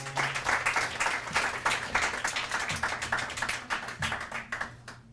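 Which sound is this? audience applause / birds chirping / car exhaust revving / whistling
audience applause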